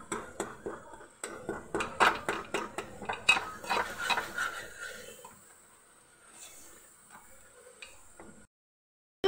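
A spoon stirs a roasted besan and tomato mixture in a pan, a rhythmic series of close scraping clacks that slows and fades out before a final knock.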